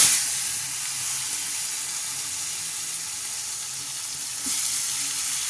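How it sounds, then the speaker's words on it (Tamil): Tomatoes go into hot oil already seasoned with cumin, asafoetida and salt for a quick tomato pickle, giving a steady, loud, close sizzle that surges briefly near the end, with no talk. "இப்போ நம்ம தக்காளி பழத்தை எடுத்து போட்டுடலாம்."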